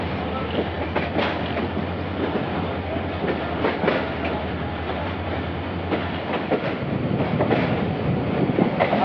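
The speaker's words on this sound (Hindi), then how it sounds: "अब जो है वो जाके ट्रेन ने थोड़ी सी स्पीड गेन की है।" A Karachi Circular Railway train runs steadily and picks up speed, a continuous loud rumble with rhythmic clickety-clack of wheels over rail joints, heard from inside the carriage with no talking.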